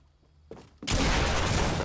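A video game shootout erupts into a sudden, dense burst of loud gunfire after a brief quieter moment, sustained and harsh up close.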